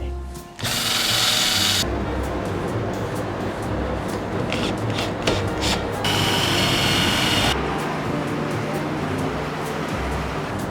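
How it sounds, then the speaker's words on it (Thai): A power drill bores into a window frame to mount a DC motor for an electric curtain. It whines loudly in two long bursts with quieter drilling between them, close by and without talk. "คราวนี้เดี๋ยวเรามาเจาะกันเลย"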